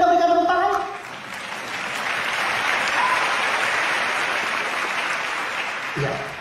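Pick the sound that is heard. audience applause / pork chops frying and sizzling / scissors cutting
audience applause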